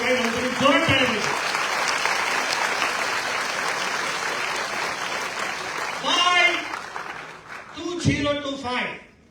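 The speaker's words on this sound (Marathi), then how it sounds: "काही नंतर जोरात टाळ्या पाहिजे" Loud, sustained audience applause fills a lecture hall during an inspirational talk, a continuous dense clatter of clapping with a speaker's voice cutting in over it near the start and again toward the end.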